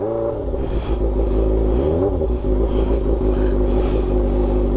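Sports motorcycle engine revving as the rider pulls away, a steady close rumble with rising and falling pitch throughout.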